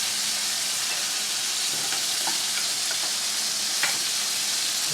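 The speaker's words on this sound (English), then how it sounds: "this boiling here. The udon noodles only take about 3 or 4 minutes to cook." A pot of udon noodles bubbles away steadily with a dense, continuous hiss and boil, broken by a few faint clicks, with no voices.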